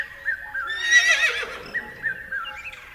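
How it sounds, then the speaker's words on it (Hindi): A horse gives a single whinny of about a second, high and quavering, ringing out clearly against a quiet background with faint shorter calls around it. "घोड़ा हनानाता है"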